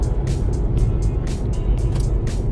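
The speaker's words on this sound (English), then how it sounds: "this is the more affluent area of Colombo, so the traffic isn't that bad" Car traffic on a street in an affluent part of Colombo, Sri Lanka, forms a loud, constant low engine rumble, with several hissy vehicle passes rising and falling close by.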